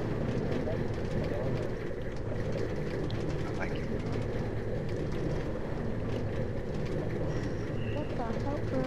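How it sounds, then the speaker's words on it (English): A Minecraft roller coaster ride gives a continuous rumbling, rolling rail noise that stays steady and fairly loud throughout, with no clear breaks. "I'm riding the roller coaster."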